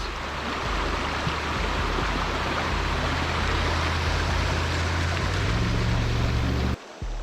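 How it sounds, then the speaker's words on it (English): Creek water rushes steadily over grass-covered shoals and rapids, a continuous broad roar close by that holds level throughout and cuts out briefly near the end. "Grass covered shoals, rapids."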